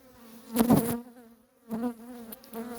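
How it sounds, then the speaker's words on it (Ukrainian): Close, steady buzzing of honeybees on hive frames with a droning hum that swells loudly in two bursts, no voices. "Обсидка бджіл чудова."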